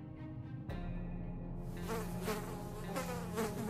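A fly buzzing in the video game 60 Seconds Reatomized, a steady close insect drone that rises and swells briefly with no voices.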